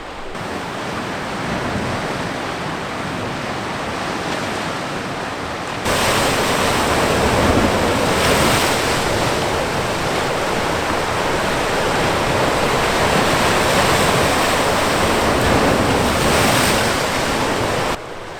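Waves of the Sea of Japan break against the rocky Tojinbo cliffs in a loud, continuous roar of surf that swells in strength partway through, with no voices.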